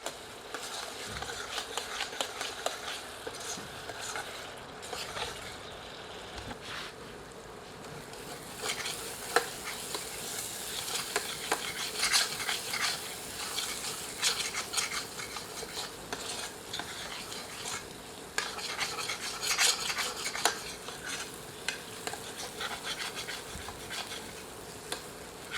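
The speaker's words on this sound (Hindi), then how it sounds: "पुनः सबको मिलाकर 3 से 5 मिनट धीमी आंच पर भूनते हैं और बीच बीच में करछी चलाते रहते हैं" Ground tomato masala roasts on low heat while a ladle stirs it. The scraping and stirring is continuous and close, with a soft sizzle running underneath. No voices.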